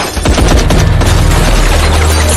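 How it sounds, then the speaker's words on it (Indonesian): Sustained gunfire from a film shootout, a dense fusillade of rapid shots and booms running loud and continuous for over two seconds before cutting off abruptly. "Gak lama, ada kejadian tembak-tembakan tuh"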